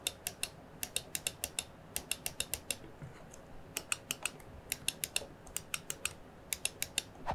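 Sharp mouse button clicks from a Razer DeathAdder V3 Pro with Gen 3 Razer optical switches, loud and close, coming in quick bursts of several clicks split by short pauses, with no talking.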